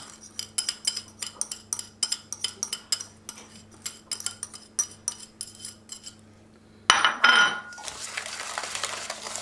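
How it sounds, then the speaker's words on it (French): Egg yolks and sugar whisked in a bowl, giving a steady run of quick metallic clinks and scrapes for about six seconds, followed by a louder clatter and a soft rustling at the end. "je remue le sucre avec les jaunes"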